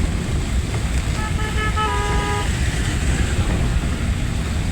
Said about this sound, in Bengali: সিরাজগঞ্জে আল্লাহর রহমতে মুষলধারে বৃষ্টি হচ্ছে, আমরা বৃষ্টির ভিতরে গাড়ি চালাচ্ছি